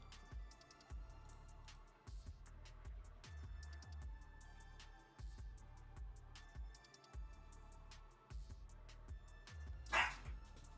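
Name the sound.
dog barking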